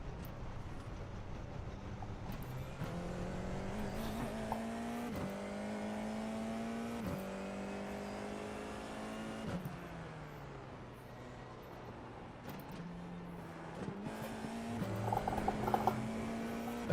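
Formula 4 race cars in the iRacing sim racing game drive steadily, engines holding a buzzing note, then stepping up through gears with repeated rises and drops in pitch, plus a louder burst of revving near the end, with no talking.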